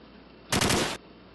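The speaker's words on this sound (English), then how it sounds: "I got this freaking staple gun. It shoots like a machine gun." A staple gun firing a quick rapid burst of clacks, loud and close, lasting about half a second against a quiet room background.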